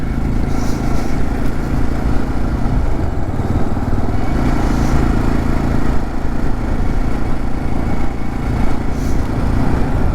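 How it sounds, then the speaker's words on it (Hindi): Motorcycle riding along a wide, smooth mountain road, its engine a steady, close drone mixed with wind rush for the whole stretch, no talking. "इतनी स्मूथ बाइक चल रही है यहाँ पे।"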